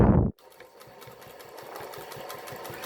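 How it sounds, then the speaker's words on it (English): A sewing machine runs in a fast, steady mechanical rhythm of repeated stitching clicks after a brief loud thump at the start, struggling to grab bulky fabric. "The sewing machine's just having trouble grabbing it"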